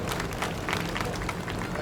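Applause from an audience at a cooperative society gathering, a steady patter of many hands clapping at once, fairly loud and unbroken, with some crowd murmur mixed in.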